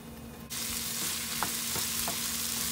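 Beans and potatoes frying in a pan on a slow flame, a steady close sizzle that starts suddenly, with a few light scrapes of a utensil stirring through it.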